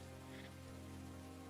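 Steady rain falls in a Hindi story scene, a constant soft, even hiss with a low hum beneath, faint and unbroken from start to finish with no voices.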